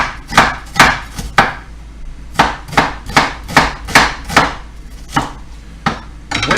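A knife chops half an onion on a board in a kitchen, with crisp, sharp strikes in quick bursts of two or three, then a steadier run of evenly spaced cuts, close and loud with no talking.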